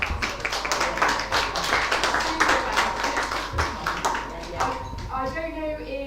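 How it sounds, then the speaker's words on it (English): Audience at an open mic poetry event applauding, a dense broadband patter of many hands clapping continuously for several seconds, fading toward the end as a voice begins speaking. "everybody give yourselves a round of applause"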